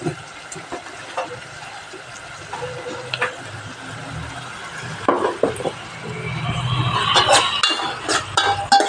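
Sliced onions sauté in a pan for a yogurt curry, with soft sizzling and stirring scrapes that grow busier and louder toward the end, heard up close with a low background hum.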